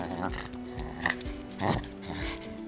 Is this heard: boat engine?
no